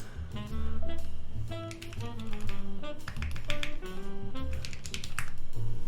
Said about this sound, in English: Let's get the typing sounds test queued up.